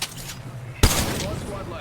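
A sharp blast of gunfire and a missile launch in Apex Legends erupts abruptly and stays as a dense, sustained rush of noise, with a voice heard under the action.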